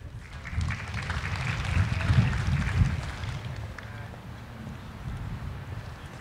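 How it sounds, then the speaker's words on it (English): At a community celebration for Asian American and Pacific Islander Heritage Month, an audience applauds a performer: a dense, continuous wash of clapping that swells in the first seconds and then eases off to a lighter patter. "give her a round of applause"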